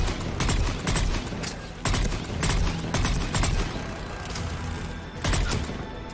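A soldier's gun fires in Mass Effect 3 combat, with close, loud, rapid bursts of shots in an uneven rhythm over continuous battle noise.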